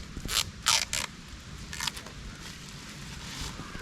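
A Realme power bank box is opened close up, with a few short, sharp scrapes and clicks of cardboard and packaging near the start, then quieter handling.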